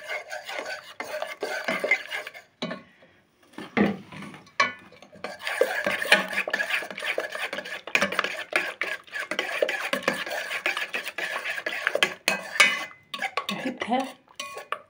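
Whisk or spoon scraping and clinking against a bowl as baking powder is stirred into a batter mixture for crispy breaded cutlets, steady rubbing strokes with brief pauses, close and alone.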